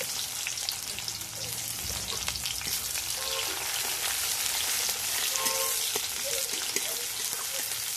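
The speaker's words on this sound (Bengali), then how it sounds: "এবার পেঁয়াজ দিয়ে দেবো।" Onions frying in hot oil with whole spices such as cardamom, cinnamon, cloves and bay leaf in a home kitchen pan: a loud, continuous, even sizzle, close and steady throughout with occasional light pops.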